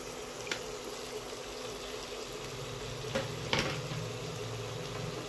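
Chicken pieces go into hot separated oil for a Tamil-style chicken varuval, giving a faint, steady sizzle with a few small clatters and stirs; no one speaks.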